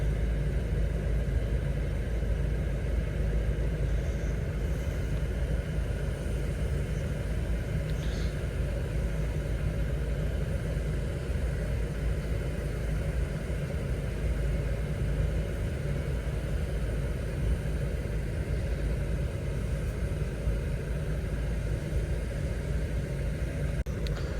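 An Opel Astra K engine idles at a steady low rumble after starting, holding an even, continuous drone at moderate level with no talk throughout.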